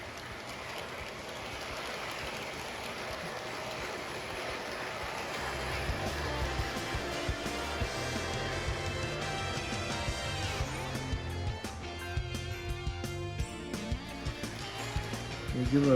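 A Hornby B17 model steam locomotive runs steadily along its track, giving a continuous mechanical rumble and clatter that grows a little louder partway through, with a brief spot of wheel slip.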